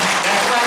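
A church prayer-meeting congregation claps hands together in a short, dense burst of applause, with voices mixed in.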